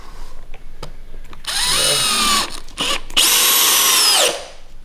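A 12V cordless drill from a Bosch, DeWalt and Milwaukee comparison whines loudly up close in two bursts with rising and falling pitch, separated by short stops and faint clicks.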